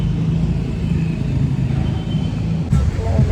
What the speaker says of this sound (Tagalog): Sakay na tayo ng jeep.